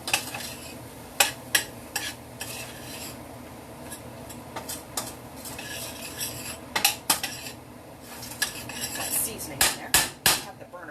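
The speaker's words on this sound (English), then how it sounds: "Let me stir this seasoning around." A metal spoon stirs seasoning in a boiling pot of water on the stove for miniature shells. Irregular clinks and scrapes against the pot's sides come in bursts over a soft bubbling hiss.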